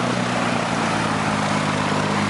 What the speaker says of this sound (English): now that plane's about ready to take off. He started.